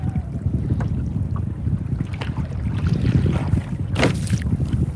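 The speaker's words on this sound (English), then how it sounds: "that wind is definitely picking up a bit now" Wind gusting over a small fishing boat anchored near a shallow reef, a steady rushing buffet against the microphone with water slapping the hull beneath it and occasional stronger gusts, no talk.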